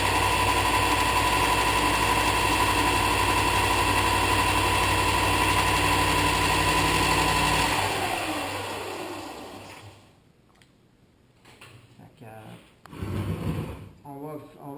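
Mastercraft 55-3559-4 belt sander running loudly with a steady motor whine and belt hum, then powering down and winding to a stop, followed by quieter handling noises and brief bumps.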